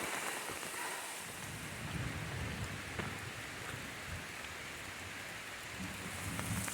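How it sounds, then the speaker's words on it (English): Steady rain falls on a hiking trail during a storm, with umbrellas up, a dense continuous hiss with scattered drop patter and possible faint low rumbles, fairly loud throughout and with no talk. "Here comes the rain."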